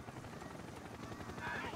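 A helicopter in the video game Max Payne 3 thumps steadily with a fast rotor beat, loud and close, while voices play over it.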